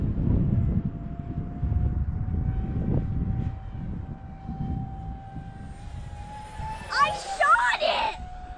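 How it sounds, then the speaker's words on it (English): A radio-controlled F16 model jet flies overhead on a Thanksgiving outing, a thin, steady turbine whine rising slightly in pitch, with wind rumble and muffled voices underneath and a brief louder whoosh near the end. "but the jet is flying great though, right?"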